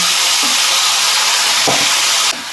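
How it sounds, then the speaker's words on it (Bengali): Marinated chicken goes into about three tablespoons of hot oil for a methi chicken curry, giving a loud, steady broadband hiss of frying with brief bursts as pieces hit the pan. "আর এই যে ম্যারিনেট করা চিকেন এবার আমি এর মধ্যে দিয়ে দিচ্ছি, এর মধ্যে দিয়ে কষিয়ে নেব।"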